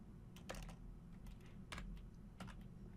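Typing on a computer keyboard while coding a Unity 2D game player controller, with clusters of quick, fairly close key clicks in short irregular bursts and brief pauses between them.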